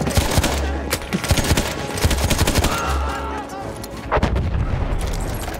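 Rapid, loud gunfire from a Battlefield 1 match, with dense bursts and repeated shots filling the scene alone, with no talk over it.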